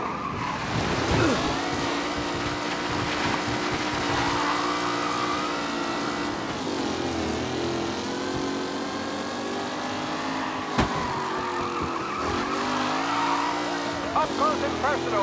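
Race cars roar around a track in Mafia Definitive Edition, with engines revving and shifting pitch as they pass and tires squealing through corners. A commentator talks over the steady, close engine noise.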